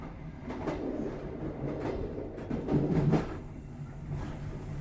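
A Pasundan passenger train runs on rails, heard from inside as a steady low rumble with rhythmic wheel clatter and a swelling roar partway through, passing Cirahayu station.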